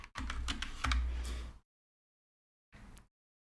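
Fast typing on a computer keyboard during a typing test, a dense run of close, crisp key clicks for about a second and a half, then silence and a short final burst of keystrokes.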